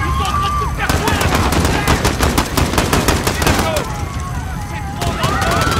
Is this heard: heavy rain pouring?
no